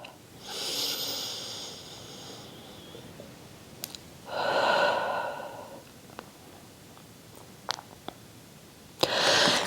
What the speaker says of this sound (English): We're breathing in through the nose, out through the mouth again.